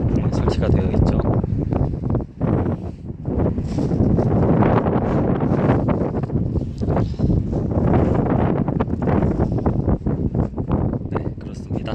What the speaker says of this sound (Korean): 바람이 많이 불어서 여기는 항상 좀 춥습니다.